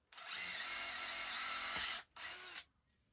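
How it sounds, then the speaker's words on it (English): A power drill whines loudly in a sustained run of nearly two seconds, pauses, then spins again in a shorter burst. Close by, no voices. "I think you can see me drilling."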